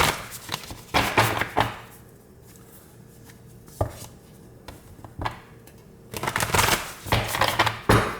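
A deck of tarot cards is shuffled close by in sharp clusters of slapping and riffling bursts, with a quieter stretch of faint taps in between.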